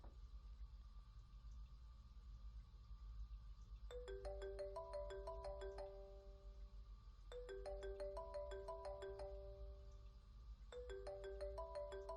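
A phone in the video game Unheard rings in repeated bursts of bright, warbling electronic tones, three rounds over a low steady background hum, with no talking.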